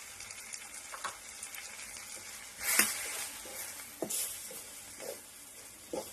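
Spice powders and roasted, ground garam masala frying in a pan for chicken curry: a soft, steady sizzle broken by several scraping stirs and brief clinks of the spoon on the pan, heard close.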